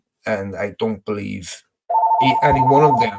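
A telephone rings during a football podcast recording, a steady electronic tone starting partway through and continuing under conversation, close and fairly loud.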